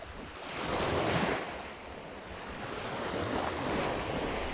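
Sea waves break on a beach near Pattaya, Thailand, in windy conditions, a broad roaring surf that swells and eases, with wind buffeting the microphone beneath it.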